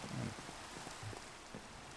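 Steady rain falls in Minecraft with the All The Mods 9 modpack, a soft, even hiss of drops with faint patters, continuous and fairly quiet.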